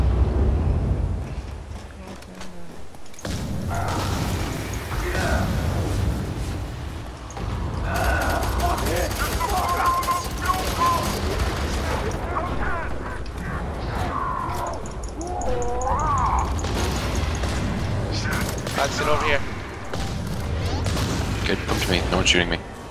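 Gunfire in the shooter game F.E.A.R. 3, steady rattling bursts and booms running throughout over a dense battle mix, with players talking over the action.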